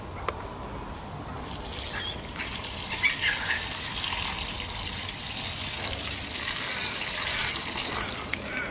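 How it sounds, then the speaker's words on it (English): Water is poured onto a newly planted garden plant with soil wetter mixed in. It makes a steady, close gushing and splashing that runs continuously and swells slightly partway through, with no speech. "soak the newly planted plant with another good dose of soil wetter and water."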